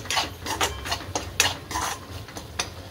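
A spoon scrapes and stirs masala sautéing in oil in a pan for a drumstick curry. The strokes are brisk, close and rhythmic, about eight clinks and scrapes over a low sizzle, with no talking.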